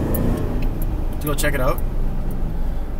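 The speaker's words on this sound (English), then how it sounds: "So I'm actually driving right now, as you can tell" Road and engine noise from a moving car, heard from the cabin, runs as a steady low rumble throughout while a person talks over it.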